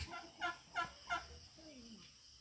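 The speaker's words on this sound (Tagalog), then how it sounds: "dito naman tayo sa mga pabo. Sa aming mga turkey." Three rapid, warbling turkey gobbles ring out in quick succession, fairly close, followed by a softer drawn-out bird call fading off.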